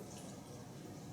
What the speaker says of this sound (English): I added another 1/4 cup of water.